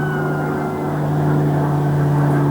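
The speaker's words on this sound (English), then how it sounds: "it's an old warplane" A big old warplane drones overhead in woodland, out of sight beyond the trees, its steady low engine hum filling the air without a break.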